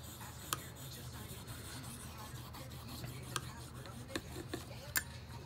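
A knife being sharpened on a fine-grit Lansky stone gives a quiet, steady rasping rub. Several faint sharp ticks are scattered through it, heard close up with no speech.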